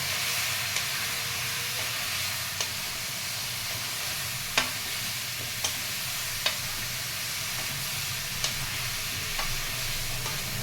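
Cumin powder, coriander powder and salt stir-fry in a pan for sabji with a continuous close hissing sizzle. Occasional faint clicks of a spoon against the pan sound over it, with no voices.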